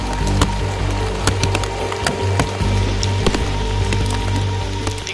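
Heavy rain falls steadily through mountain forest on Doi Inthanon, with scattered sharp drops knocking on leaves and wood over a dense continuous hiss, close and loud, no talk.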